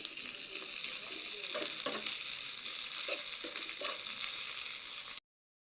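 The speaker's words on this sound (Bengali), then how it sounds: "সামান্য একটু রসুন বাটা, সামান্য একটু মশলা বাটা। এগুলোকে আমি নেড়ে দেব।" Ginger, garlic and spice pastes sizzle steadily in oil in a pan as a spatula stirs them with a few soft scraping strokes, close and continuous with no talking, before the sound cuts off abruptly.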